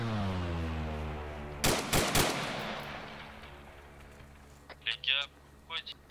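A short burst of gunfire from a video game set in Arma III Altis Life: three sharp, loud shots in quick succession, followed by fainter scattered pops, all over a steady background hum with people talking.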